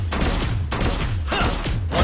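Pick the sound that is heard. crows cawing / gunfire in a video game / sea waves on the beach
gunfire in a video game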